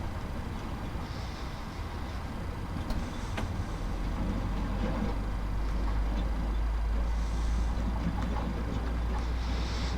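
Boeing 737-800 engine number 1 spooling up during start in a flight simulator, a steady low rumble with rising whine and broadband hiss that builds slightly in loudness over the clip, with no talking.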